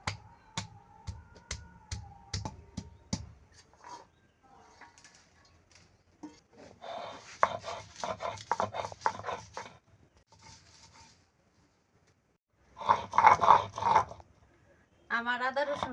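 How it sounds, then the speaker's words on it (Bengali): Ginger and garlic are ground into paste on a traditional grinding stone in a village kitchen. Rhythmic stone-on-stone rubbing and knocking comes in irregular bursts separated by quiet pauses, with a few sharp taps early on. "এখন আমি আদা রসুন বাইটা নিব"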